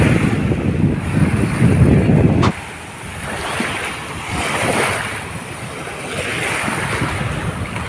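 Sea waves wash ashore at a beach resort with a broad, steady surf roar mixed with wind buffeting the microphone, loud at first and then softer after a sudden drop.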